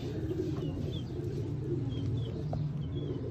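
A male Ferozpuri breeder pigeon coos nearby in low, continuous, rolling murmurs, with faint higher chirps from other birds in the background.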